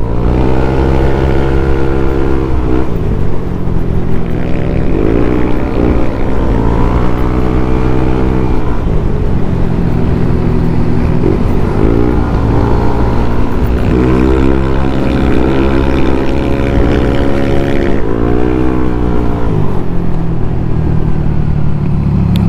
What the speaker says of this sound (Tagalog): ang iingay ng pipe namin